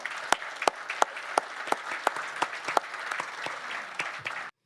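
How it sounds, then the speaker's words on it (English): Brief applause for a Hall of Fame class at a college football news conference, a crowd clapping with a few sharp, prominent claps standing out before it stops abruptly. "A round of applause for all of our Hall of Fame class."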